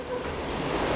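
Heavy rain falls as a steady, dense hiss, close and continuous for about a second with no voices.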